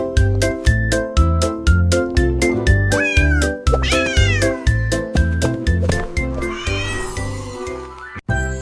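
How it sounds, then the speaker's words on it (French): A cat meows repeatedly in quick rhythmic bursts over a bouncy children's song with a steady beat, the meows rising into drawn-out wailing caterwauls near the end. "Un chat qui ronronne et qui est idiot."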